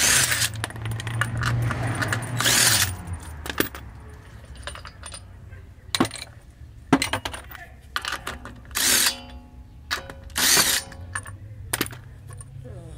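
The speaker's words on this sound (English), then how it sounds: "battery impact to spin the nuts out" A battery impact wrench spins brake caliper nuts off the front brakes of a 2005–2010 Honda Odyssey. Whirring bursts come at the start and end, with metallic clinks and rattles of parts and tools in between, close by.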